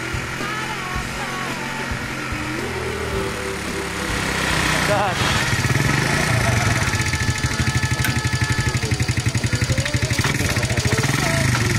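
A modified three-wheeled motorcycle built for garden and farm work runs its engine, idling at first and then settling into a louder, steady rapid chugging, with a voice talking over it.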